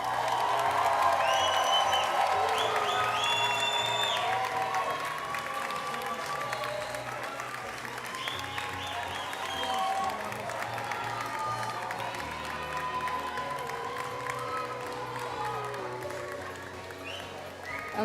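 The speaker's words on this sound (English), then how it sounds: "clap really loudly and scream for them" Graduates at a commencement ceremony clap loudly and cheer for their families in the audience, giving a sustained roar of applause with whoops and shouts that rises early and stays broad and crowded throughout.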